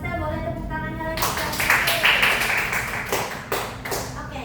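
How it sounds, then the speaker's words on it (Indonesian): A classroom of students claps briefly after a group discussion, with a short burst of sharp, uneven hand claps that start after a teacher speaks and thin out into scattered taps. "Oke, bagus sekali Alia Kalista, boleh tepuk tangannya lagi."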